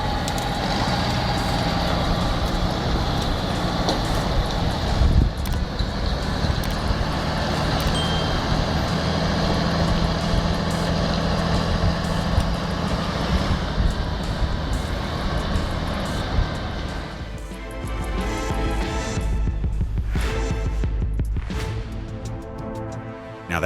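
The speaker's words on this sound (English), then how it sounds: "With a bit of grit, a lot of torque, and some well-placed wheel spin, that rig came back to life." A Valtra tractor strains to pull a stuck trailer, its engine roaring loud and steady as the wheels spin, then the drone thins and wavers near the end.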